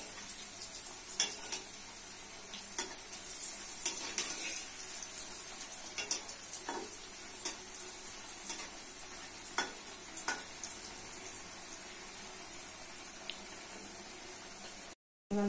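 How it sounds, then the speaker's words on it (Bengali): Green banana kofta fry slowly on low heat, with a soft background sizzle and occasional light utensil taps and scrapes in the pan, quiet and close, ending abruptly. "হালকা আঁচে ভাজতে হবে এগুলো।"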